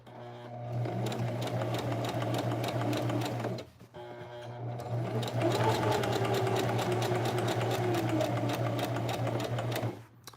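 A sewing machine runs in two long, steady stitching bursts over a denim jeans seam, separated by a brief pause, loud and close with a constant mechanical hum.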